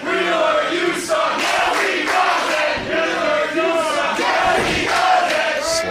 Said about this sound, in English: the crowd chants Wheeler Yuta